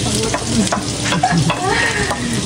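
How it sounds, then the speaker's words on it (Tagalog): Garlic and onion frying in hot oil in a pan, a loud, steady, close-up sizzle and crackle that stays dense from start to finish. "Kapag mainit na po yung mantika, pwede na po natin ilagay yung bawang. Saka yung sibuyas."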